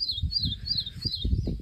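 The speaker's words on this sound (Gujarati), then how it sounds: "પોપટ છે પોપટ છે પોપટ છે પોપટ છે જમરૂક ખાતો છે ભાઈ" A parrot gives four repeated high, shrill calls at a steady rhythm while eating guava outdoors, with low rumbling background noise underneath.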